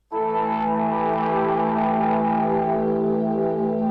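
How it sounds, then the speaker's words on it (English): A distortion effect unit in Logic Pro X produces a sustained, buzzy distorted synth or guitar tone throughout, thick with harmonics and a slight swirling chorus shimmer, with no talking. "definitely a distortion type unit"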